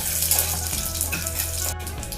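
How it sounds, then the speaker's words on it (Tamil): Mustard seeds splutter and pop in hot oil in a pan for Tamil-style cabbage kootu, with cumin and crushed garlic in the pan as well. The sizzle is dense, close and steady, with scattered crackles. "கடுகு நல்லா வெடிக்கட்டும்."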